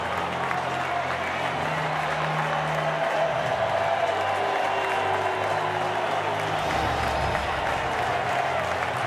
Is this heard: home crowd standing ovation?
yes